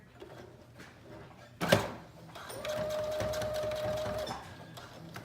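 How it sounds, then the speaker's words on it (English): After a sharp knock, a sewing machine stitches in the ditch of a seam on a one-shoulder dress (New Look 6507), running in a short, steady, fairly quiet whir for under two seconds before stopping. "I go back and then I just sew in the ditch of the seam here"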